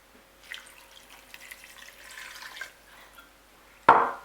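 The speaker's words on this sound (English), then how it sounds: "Put some water." Water pours into a pressure pot holding sardines, a low steady splash running for a few seconds, then a sharp loud knock or clank close by near the end.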